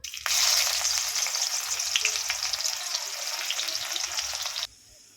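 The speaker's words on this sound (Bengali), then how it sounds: "পেঁয়াজ বেরেস্তা করে নেব" Onions deep-frying in hot oil until crisp for a Bangladeshi chicken bharta, a steady loud sizzle that starts abruptly and cuts off near the end, with no talking.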